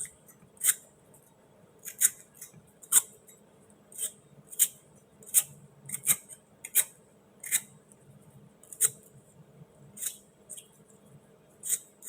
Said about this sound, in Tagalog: Balatan din natin itong patatas.